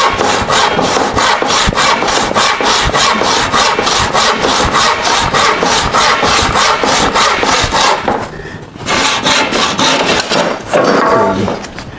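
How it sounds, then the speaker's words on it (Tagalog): Hand sawing of wood while building a door: a loud, close, rhythmic series of push-pull saw strokes, steady for about eight seconds, then a brief pause and a few more strokes. "Lagariin ulit natin ito."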